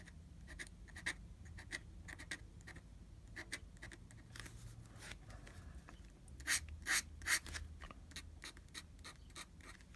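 A pen scratches across paper while drawing a jester in ink, a close, quiet series of irregular strokes and scribbles, some sharper and louder, with no one speaking.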